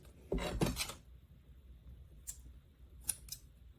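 Scissors snip through rein material for a model horse bridle, two quick close cuts, then a few faint, light clicks follow in a quiet room.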